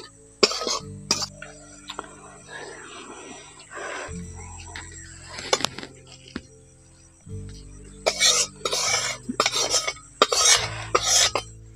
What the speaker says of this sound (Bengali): এবার সব কিছু একসঙ্গে চিড়ের মধ্যে ভালো করে মাখিয়ে নিচ্ছি